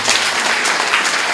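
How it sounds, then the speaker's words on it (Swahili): A church congregation breaks into applause during the introduction of a bishop-elect, a dense, steady wash of many hands clapping together for the whole moment, loud and close. "Kwa kweli hebu tujipongeze kwa makofi mengi."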